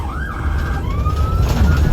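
An ambulance siren wails with rising and falling tones while the vehicle drives through Kuala Lumpur, loud and steady over a rumbling road and engine bed, with no talking.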